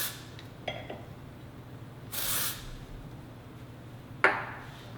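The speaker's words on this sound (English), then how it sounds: "So this was dry shampoo." Amika dry shampoo sprayed into short hair in a few brief hissing bursts, one longer spray in the middle and a short sharp spritz near the end, close up with no talking.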